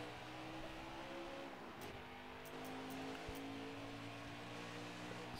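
Race cars launching off the line at Las Vegas in the NASCAR Heat racing game, a steady dense roar of several engines building under continuous rumble, no talking.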